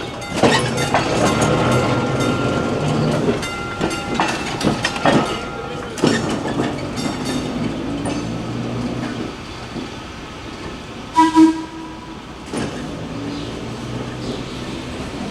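An old trolley rolls along rails at an abandoned cotton mill, giving a steady rumbling clatter with scattered metallic clunks and squeals, loudest in the first half before easing off.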